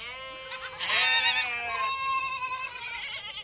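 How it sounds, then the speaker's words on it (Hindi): Goats bleat loudly and close by, several wavering nasal cries overlapping in one continuous chorus, with no talking. "वे बकरियां आवाज निकालने लगती हैं।"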